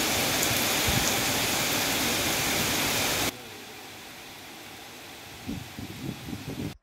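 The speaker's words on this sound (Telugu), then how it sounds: "మృగశిర ముందు కురిసిన వర్షం చల్లదనాన్ని పెంచింది" Pre-monsoon rain pours down as a loud, dense, steady hiss for about half the stretch, then falls to a softer patter with a few louder spatters near the end.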